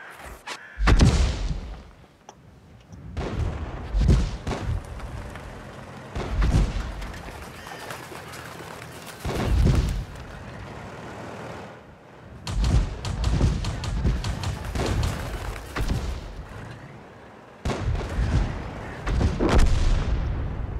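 Heavy tank cannon shots in World of Tanks, a series of deep booming blasts spaced a few seconds apart, each with a sharp crack and rumbling tail over constant engine and battle noise.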